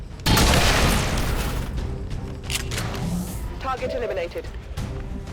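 Loud booming gunfire from the video game XCOM 2: War of the Chosen at the start, followed by continued rumbling blasts and clatter, with a voice talking over it.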